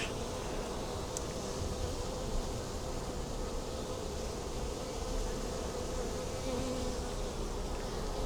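Honeybees buzz steadily at an opened beehive during spring work moving brood frames to the honey super, a dense continuous drone close by that never lets up and carries no speech.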